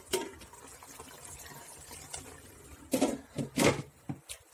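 Biryani gravy simmers in a pot with faint, soft bubbling, then a few louder plops and splutters toward the end.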